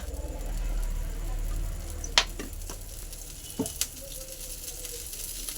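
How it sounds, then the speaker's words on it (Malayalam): Oil sizzles and crackles softly in a hot pan for egg dosa, a low steady frying hiss broken by a few sharp clicks near the middle, with no talking. "ഇനി ഗൈസ് നമുക്ക് എണ്ണ വയ്ക്കാം."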